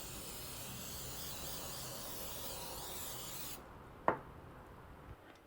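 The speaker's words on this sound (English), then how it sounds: "Safely spray the bottom of the dish and the sides." Cooking spray hissing from an aerosol can onto a baking dish for lemon bars, a long steady close spray that cuts off abruptly, followed by a sharp knock, with no voices.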